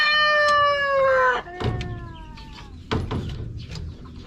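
Dekalb Brown chickens in a coop give a drawn-out high call, followed by short clucks and scratchy movement nearby, with no talking.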